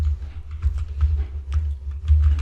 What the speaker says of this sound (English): we will type in some code here for the else statement